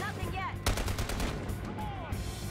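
Gunfire in the video game Battlefield Hardline, a few sharp shots cracking over a dense, rumbling game soundscape with swooping electronic tones, fairly loud and busy.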